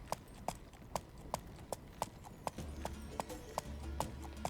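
Steady clip-clop of horse hooves trotting at an even pace in the game Life is Feudal, close by, with a low rumbling ambience rising partway through.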